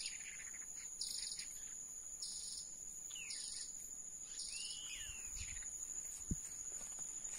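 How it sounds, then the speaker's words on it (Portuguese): A small bird sings near its nest at an outdoor fishing spot, uttering a few thin whistled chirps and sweeping calls over a constant high insect drone, quiet and with no voices. "Passarinho tá cantando aí."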